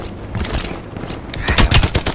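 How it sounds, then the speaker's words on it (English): Rapid automatic gunfire from the video game Call of Duty: Black Ops Cold War, loud dense bursts that build into a heavier volley near the end, with no talk over it. "I'm trying to land first to shoot him."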